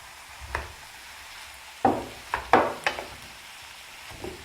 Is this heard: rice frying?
yes